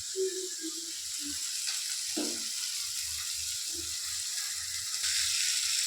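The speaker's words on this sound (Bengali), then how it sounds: "খুব ভালোভাবে ভাজা হয়ে গেছে এগুলো" Chicken pieces, marinated with a little vinegar, frying in hot mustard oil, with a steady broadband sizzle throughout and a few soft stirring knocks and scrapes of the pan.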